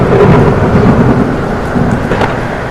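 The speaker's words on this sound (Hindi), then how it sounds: "अंधेरी रात में कड़कती बिजली के साथ जोरदार बारिश हो गई।" A heavy downpour with crackling thunder and lightning on a dark, cold night: loud, continuous rain roar with rolling thunder rumbles throughout, with no voices.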